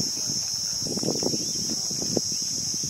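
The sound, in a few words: crickets chirping loudly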